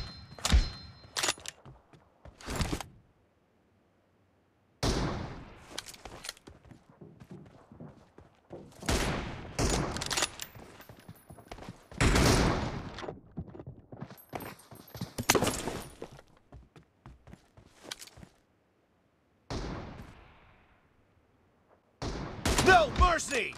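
Gunfire from a PUBG Mobile team deathmatch comes in repeated bursts and single shots with short silent gaps between them, and game voice callouts play over parts of it.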